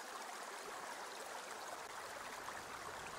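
Steady rushing river current in the MudRunner off-road game, a dense unbroken broadband wash of flowing water with no pauses, fairly close and even throughout, with no voices over it.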